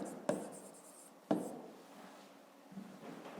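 A pen writes numbers by hand on paper during a fifth-grade math exercise: a soft, continuous scratching with two sharper taps near the start, close and alone.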